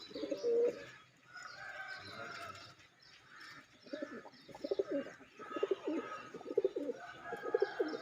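Several pigeons, eight males and three females, coo close by on a rooftop in Pakistan in low, throaty, rolling calls, overlapping in repeated bursts with brief quieter pauses between.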